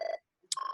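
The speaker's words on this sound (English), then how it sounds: "my phone is ringing, so I'm going to hang up on it" Short electronic phone ring in two brief bursts of steady tones separated by a gap, clean and fairly quiet, heard alone.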